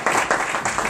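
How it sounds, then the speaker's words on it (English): An audience applauds at an Atlanta business event, a dense burst of clapping that swells in quick waves over about a second, fairly loud and without speech. "Let's give them a round of applause for that."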